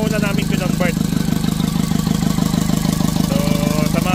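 Isuzu Mini Elf 4HF1 diesel engine running after an overhaul and conversion from electronic fuel injection to manual, a steady low idle with rapid even pulsing throughout, close and continuous, with faint voices in the background.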